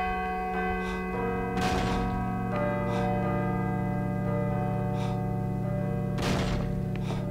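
Church bells rung by pulling a rope in the video game Call of Cthulhu, several heavy clanging strikes at uneven intervals with long sustained ringing tones, loud and alone.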